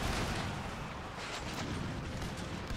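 Cannon artillery fire in a Napoleonic-era strategy video game, heard as continuous dense rumbling booms and battle noise. The loud roar holds steady throughout with no clear gaps.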